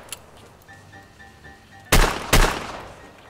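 Two loud, sharp revolver shots ring out about half a second apart in Escape from Tarkov, preceded by faint clicks and a quiet beeping tone.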